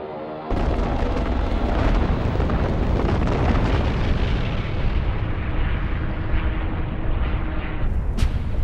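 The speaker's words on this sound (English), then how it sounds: "The Stukas, the German dive bombers, complete the destruction of what once was the USSR's model city." German Stuka dive bombers bombing Stalingrad: a dense, continuous roar of explosions and rumbling blasts begins abruptly and stays loud and steady, with no voices.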